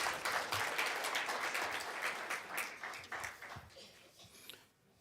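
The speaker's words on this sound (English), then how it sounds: "round of applause for our enumerators." An audience at the launch of the 2023 census main report claps for the census enumerators, a burst of hand clapping from many people that tapers off and fades out over a few seconds.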